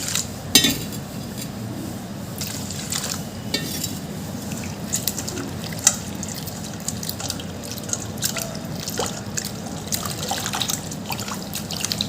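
Water sloshes and trickles with light clinks of a utensil against a bowl as poha flakes are rinsed, a steady wet sound close by.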